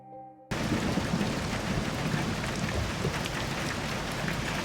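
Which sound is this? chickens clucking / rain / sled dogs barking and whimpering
rain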